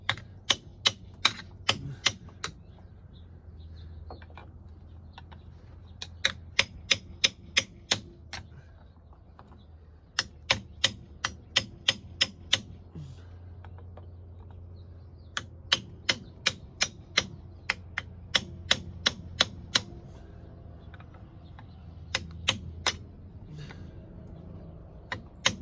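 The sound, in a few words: hammering on a flathead screwdriver during Dana 60 axle rebuild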